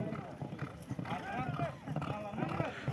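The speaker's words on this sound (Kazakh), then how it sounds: "Бесінші айлауды аяқтап, алтыншы айлауға кетеді аттар." Horses gallop in a race at a village celebration, their hoofbeats a faint, distant rumble beneath a loud, excited commentator and crowd shouting over the course.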